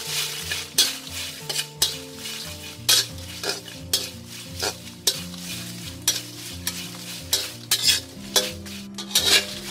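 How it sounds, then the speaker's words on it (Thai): Dried chilies are dry-roasted in a frying pan over medium heat. Repeated utensil scrapes and clacks against the pan mix with a light sizzle, with music playing in the background. "ให้เพื่อนๆตั้งกระทะนะคะเปิดไฟปานกลางเลยค่ะนำพริกลงมาคั่วเลยค่ะ"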